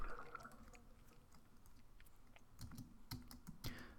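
A computer keyboard space bar is pressed repeatedly while playing a game, faint irregular clicks and taps close by over quiet room noise.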